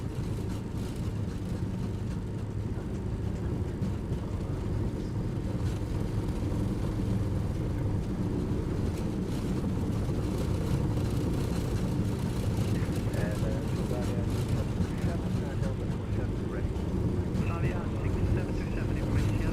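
An MD-80 airliner on its takeoff roll in Microsoft Flight Simulator, in strong wind, with a steady, heavy low engine roar that runs throughout and builds slightly.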